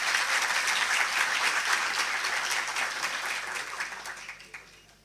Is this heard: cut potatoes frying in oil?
no